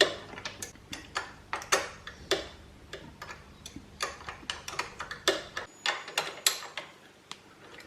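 A spanner works 12mm bolts on a Tenere700 bash plate, giving a quick run of sharp metallic ratchet-like clicks in an even rhythm, close and clear with no talk.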